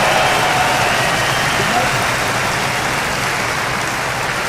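Sustained, dense audience applause following a live orchestral performance of Hungarian Dance No. 5 with André Rieu, a steady loud wash of clapping from a large crowd throughout.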